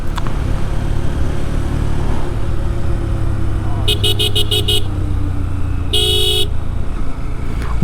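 Vehicle horn honking at cows on a road on the way from Boga Lake and Keokradong to Cox's Bazar, two bursts of quick repeated toots, first a rapid series then a longer blast, over steady engine and road noise.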